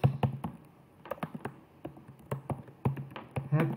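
Keys clatter on a computer keyboard in short bursts of close, crisp taps with small pauses, as a word is typed into an alt-text box in a word processor.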